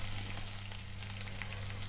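About two spoonfuls of peanuts frying in hot oil with chillies, mustard seeds, cumin and curry leaves for lemon rice, an even soft sizzle with one sharp pop, over a low hum.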